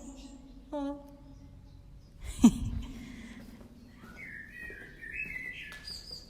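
Scattered bird chirps and a rising, warbling call, fairly clear over quiet background, with a brief thump partway through.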